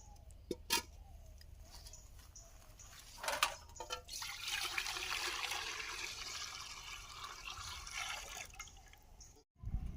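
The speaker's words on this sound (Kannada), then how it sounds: "ಮೊದಲು ಇಡ್ಲಿ ಪಾತ್ರೆಗೆ ನೀರು ಹಾಕ್ತಾ ಇದ್ದೀನಿ" Water pours steadily into a metal idli steamer for several seconds, a hissing, splashing stream preceded and followed by a few clunks and taps.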